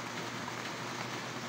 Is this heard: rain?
yes